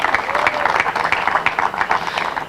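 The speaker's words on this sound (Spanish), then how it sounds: "Bienvenido y fuerte el aplauso." Loud applause welcoming Reinaldo Pérez at a commemorative ceremony, with a crowd clapping steadily and densely throughout, close and with no voices over it.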